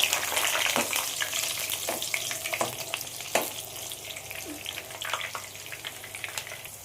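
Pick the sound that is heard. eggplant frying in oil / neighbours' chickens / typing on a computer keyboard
eggplant frying in oil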